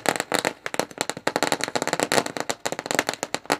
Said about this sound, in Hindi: छक्के के साथ स्वागत किया, पटाखे बरसा रहे हैं